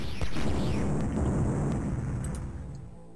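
Loud, sustained rumbling explosions and gunfire from the Amiga strategy game Dune II fill the space, with a heavy blast that slowly fades while crackling battle noise continues.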